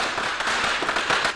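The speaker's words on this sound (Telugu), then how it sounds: "దీపావళి కాదు కానీ క్రాకర్స్ పేలుతున్నాయి" Firecrackers burst in a residential colony, a rapid, irregular string of loud, sharp cracks and pops crowding close together, with no voices over them.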